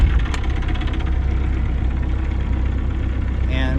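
A boat's engine idles steadily, then the boat is put in gear and pulls away, a continuous mid-low drone with knocking texture, close and fairly loud, with a brief higher tone near the end.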